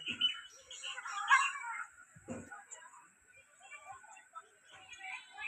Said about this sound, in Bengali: পাখিদের কোলাহলে মনোমুগ্ধকর একটা পরিবেশ।